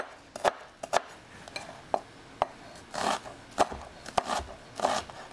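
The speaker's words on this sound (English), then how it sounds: "Let's just do a quick chop on some of that red onion we still have left over." A knife chops through leftover red onion on a board, a quick series of sharp, close taps with uneven gaps between them, some strokes ringing crisper than others.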